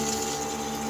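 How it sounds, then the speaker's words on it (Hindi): Water pours steadily into a pot of mutton being cooked for achar gosht, a constant, close gushing rush with no break or talk. "अब हम इसमें पानी ऐड करेंगे"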